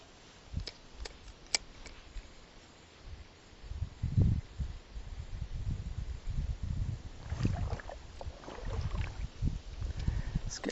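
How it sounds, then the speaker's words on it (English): Wind gusts buffet the microphone during kayak fishing on open water, a rumbling, uneven roar that swells in bursts, with a few sharp clicks early on and no talking. "It's so windy now."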